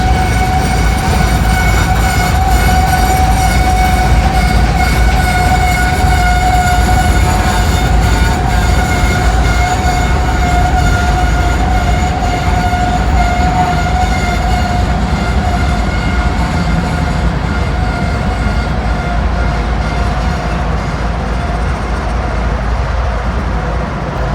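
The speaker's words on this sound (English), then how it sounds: "I think maybe this NS train will be moving" Loud, continuous rumble of a Norfolk Southern freight train moving past up close, with sustained wheel screech tones over the rolling noise and no speech.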